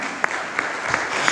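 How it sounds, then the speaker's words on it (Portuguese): A church congregation claps steadily in a brief, moderately loud burst of applause, with a few sharper claps standing out at a regular pace. "Pode aplaudir, pode aplaudir."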